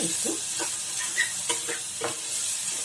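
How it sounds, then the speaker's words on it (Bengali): Ginger garlic paste frying on high flame, a soft steady sizzle and hiss with a few light stirring knocks, close and fairly quiet with no talking. "ফ্লেমটা একটু হাই করে আদা রসুন বাটাটা"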